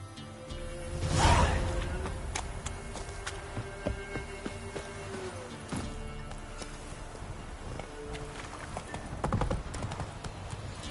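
Roach, the horse in The Witcher 3, moves with steady rhythmic hoofbeats on the ground, faint and continuous, with a brief whoosh early on.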